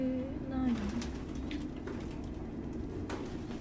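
Pigeons in the video game Detroit: Become Human give a few soft, close coos at the start, then quieter ambience follows.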